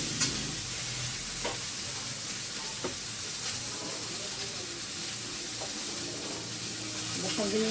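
Cut vegetables for Bengali shukto frying in hot oil, a steady close sizzle running throughout with occasional scrapes and knocks of a utensil stirring the pan.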